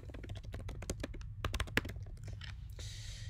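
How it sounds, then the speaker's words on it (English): Fingers type on a computer keyboard while details are entered for a Microsoft Teams meeting, a quick run of soft, close clicks with a brief pause near the end. "if I want to type in some details here, I can"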